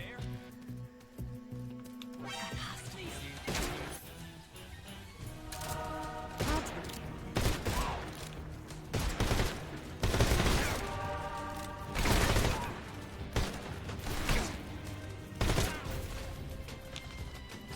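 Repeated gunshots and bursts of fire ring out in the Metal Gear Solid Delta video game, sharp loud cracks recurring every second or two over a busy game soundscape, with a voice talking along.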